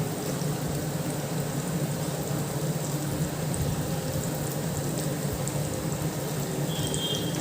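Cauliflower pieces frying in hot oil for a crispy KFC-style snack, a steady, dense sizzle and crackle running continuously at close range with no voices over it.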